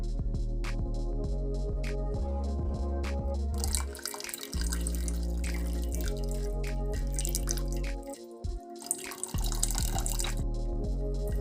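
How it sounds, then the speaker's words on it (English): Water drains out of a cloth bundle of squeezed homemade paneer, dripping and trickling into a pot in irregular bursts, close and fairly clear with no talking. "Now squeeze it and take all the water out."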